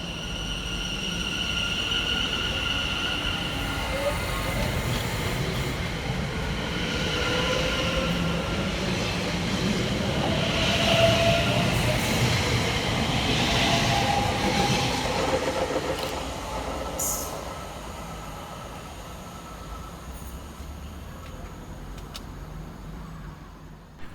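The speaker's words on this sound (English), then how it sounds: "Next to depart from the station is 710-120 and 710-111, working the 1126 London Overground service from Enfield Town through to London Liverpool" A pair of London Overground Class 710 electric trains pulls away from Edmonton Green station with a steady, loud rolling rumble and a faint wheel squeal, then gradually eases off toward the end.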